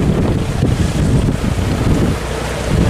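Strong gusting wind at a fishing port where large trawler boats come in, loud and continuous as it buffets the microphone in heavy rumbling blasts.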